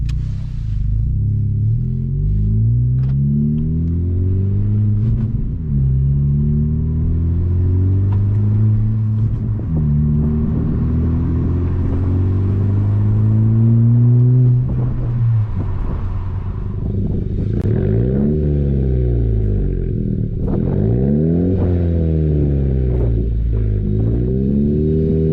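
A 10th-generation Honda Civic Si fitted with a MAPerformance race exhaust and front pipe, recorded from outside the car, revs up and down repeatedly with deep, loud, rising and falling engine pulls and a rumbling idle between them.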